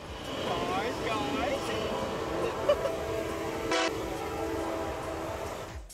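A train horn sounds in long sustained blasts over the rumble of a passing train, with a brief louder burst midway before it cuts off.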